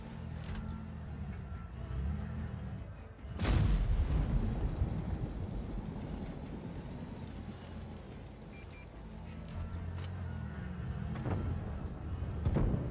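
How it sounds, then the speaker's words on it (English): In a tank video game, a heavy blast strikes near the player's tank, one loud boom partway through, set against a low, constant engine rumble and distant battlefield noise. "Are they blind shooting me?"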